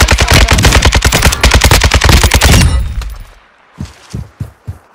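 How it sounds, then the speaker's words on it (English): Gunfire in the Warzone 2 video game: a loud, rapid burst of close automatic shots for nearly three seconds, then a pause followed by a few separate, quieter thumping shots. "I heard him shooting a sniper"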